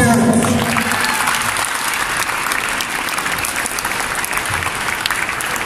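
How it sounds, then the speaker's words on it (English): Steady applause for the parents swells from a large crowd at a Jr. NBA All-Star event in Malaysia, loud at first and then holding an even, dense clapping until the end. "send a round of applause for all of your parents who allowed you to join us here"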